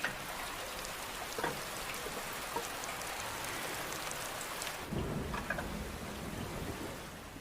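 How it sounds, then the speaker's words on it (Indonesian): Steady rain falling at night, a dense continuous hiss of drops on surfaces, with a slight surge partway through before easing off, and no voices. "Malam pun tiba, hujan turun dan mereka segera menampung airnya."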